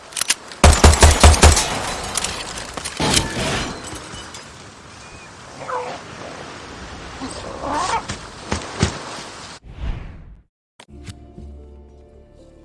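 Enemy turret machine gun in Far Cry 6 rattling off a loud, rapid burst of shots at close range, then a noisy wash of gunfire and combat ambience with scattered cracks before the sound cuts to near silence.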